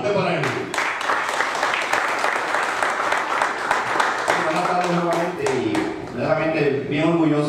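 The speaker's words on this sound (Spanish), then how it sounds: "Así que nuevamente el aplauso fuerte para él." A crowd at a amateur baseball home run derby in Coamo applauds loudly and continuously with scattered clapping, while an announcer talks over it on a public address system.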